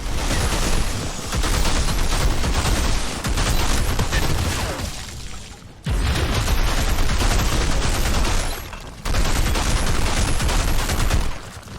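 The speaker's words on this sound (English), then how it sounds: "Fill your current weapon's magazine with decay-infused bullets that inflict toxic onto enemies." Rapid automatic gunfire from a weapon loaded with toxic decay-infused bullets in the video game Outriders, loud and close, in three long sustained bursts separated by brief pauses.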